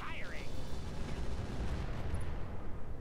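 Weapon fire in the mech combat game Roguetech, a dense, continuous rumbling barrage of blasts filling the short stretch, loud and close, with a brief whistling tone near the start.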